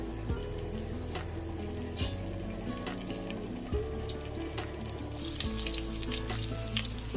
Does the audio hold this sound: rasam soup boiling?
yes